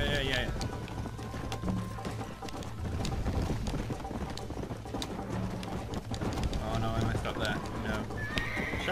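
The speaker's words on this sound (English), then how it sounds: "Shut up, horse, and keep moving." In the video game Red Dead Redemption a horse gallops with rapid hoofbeats and lets out whinnies and neighs, while someone talks throughout.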